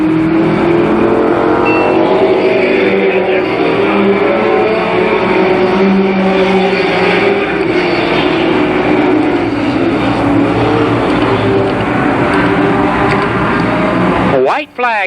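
Super late model race cars roar around the oval at Columbus Motor Speedway in 1991, a loud continuous pack of engine drone with rising and falling revs, a commentator talking over it throughout.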